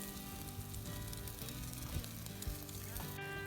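Dough cooking in a small makeshift oven over a backcountry campfire at Algonquin, with a steady close sizzle and frying crackle running throughout and a few louder pops.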